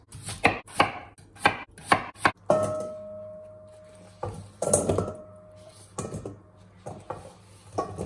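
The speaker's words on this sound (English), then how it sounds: "Let's chop the potatoes." A knife chops red royale potatoes on a board with a quick run of sharp, loud, evenly spaced strikes, then a pause and a few more slower cuts, with no talk.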